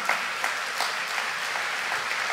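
A large audience at a Sadhguru talk on World Population Day 2018 claps steadily, a dense, continuous patter of many hands with no voices.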